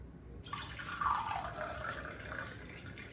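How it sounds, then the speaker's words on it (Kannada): Water pours into a glass, a soft close trickle that rises in pitch as it fills and then tails off, fairly quiet with no talking. "ಆ ಗ್ಲಾಸ್ಗೆ ನೀರು ಪಾಡೋಡು"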